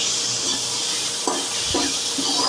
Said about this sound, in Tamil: தக்காளி போட்டு நல்லா கிண்டுங்க தக்காளி நல்லா மசிஞ்சு வரணும்